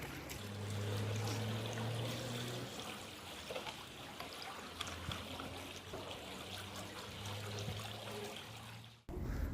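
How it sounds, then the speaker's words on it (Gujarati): Raw chicken is rinsed outdoors with water poured from a bottle brought from home, Narmada river water, producing a faint, steady trickle and splash that runs for several seconds before cutting off. "હવે ચિકન ધોઈ રહ્યા છે"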